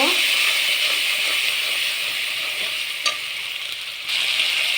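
Spice paste with turmeric frying in oil in a pan, a dense continuous sizzle and hiss that holds steady throughout with a faint clink near the middle.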